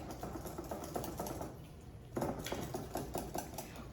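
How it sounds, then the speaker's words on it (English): A whisk beats a thick cream cheese cake batter in a bowl, giving a rapid, rhythmic scraping patter that pauses briefly midway and then resumes close by. "it's a little harder to whisk because it's so thick"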